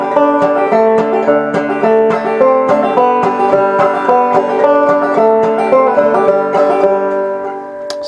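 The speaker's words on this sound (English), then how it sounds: "we're using the back of our middle fingernail to hammer on the strings" Clawhammer banjo playing Skip to My Lou, with bright plucked strings and a steady, bouncy picking rhythm over two simple chords, close and loud with no voices.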